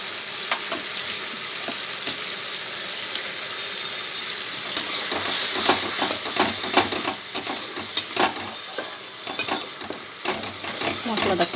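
Spices and tomato sauce sizzling in a pan for a yam curry, steady frying hiss with repeated scraping strokes of a spoon stirring, growing busier as the stirring continues.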